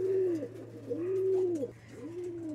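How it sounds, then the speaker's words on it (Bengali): A pair of Sirazi and Lahori cross pigeons coo in repeated rising-and-falling calls, three or four drawn-out phrases close by over a steady low hum. "চমৎকার সাইজ কোয়ালিটির মধ্যে একজোড়া সিরাজি কবুতর"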